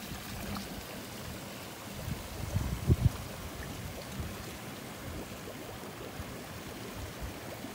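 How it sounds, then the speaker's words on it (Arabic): Overflow water draining out of cement tilapia fish ponds into a drain, a faint steady gurgling trickle with a brief louder splash in the middle. "في ميتورات بتسحب ماء وبتجيب ماء وبيطلع بعد كده الماء بالمصرف هذا الماء الفايض"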